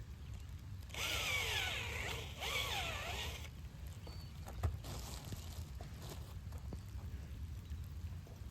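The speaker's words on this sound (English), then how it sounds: "We're going to use the drill, go a little bit deeper, soil's going to fall back in," A power drill boring into soil to fertilize Christmas tree seedlings gives two loud whirring bursts of a few seconds each, followed by quieter rustling and soil handling outdoors.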